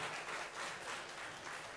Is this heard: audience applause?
yes